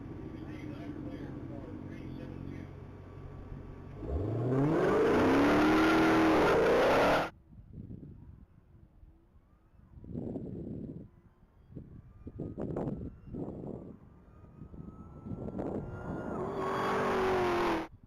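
A silver 2023 Dodge Challenger Hellcat accelerates down the mile at a top-speed racing event. A loud engine roar rises in pitch and cuts off sharply, followed by quieter passes and commentary, then another surge near the end.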